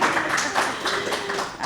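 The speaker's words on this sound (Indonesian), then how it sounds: "Waduh, tepuk tangan dulu ya" Audience clapping at a children's entertainment show, a fairly close patter of hand claps with a distinct rhythmic pulse that continues steadily.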